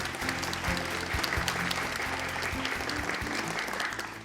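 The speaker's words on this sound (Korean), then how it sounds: "박수 좀 부탁드릴게요." Steady applause from an audience welcoming a five-member expert panel at a crowdfunding competition, sustained and fairly even for several seconds with a low hum or music bed underneath.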